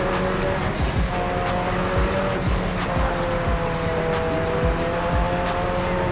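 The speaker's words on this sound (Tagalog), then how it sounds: "Para kapag tinesting natin yung top speed nitong McLaren ko." A McLaren P1 running flat out at top speed in Forza Horizon 5, its engine roaring loudly and steadily with rising tonal whine and tire noise, continuous for the whole stretch.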